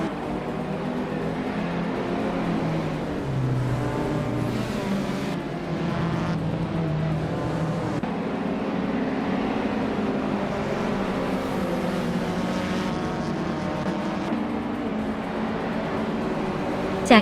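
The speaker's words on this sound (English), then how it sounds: "piloting a classic 1988 Porsche 944 Turbo S. Let the vintage battle begin." A 1988 Porsche 944 Turbo S races in a retro slow-car class of a racing video game, its engine droning and shifting pitch continuously alongside other cars, with faint commentary-like voices mixed underneath.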